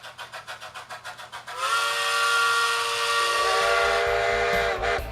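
A narrow gauge steam train chuffs in rhythmic puffs, then a loud, sustained steam whistle blows for several seconds, with hiss throughout.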